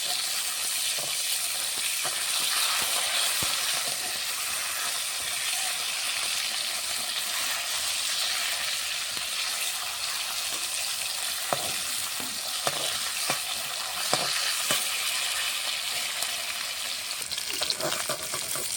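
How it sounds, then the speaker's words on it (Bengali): Bata fish fry lightly in hot oil, a continuous bright sizzle and crackle with scattered sharper pops throughout, steady and close. "মাছটা কড়া করে ভাজবো না, হালকা করে দিয়ে দেবো।"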